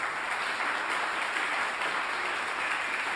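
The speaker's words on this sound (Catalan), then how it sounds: "un aplaudiment a ell" An audience at a flute orchestra concert applauds the arranger, a conservatory piano student, with steady dense clapping sustained evenly from start to finish at moderate distance.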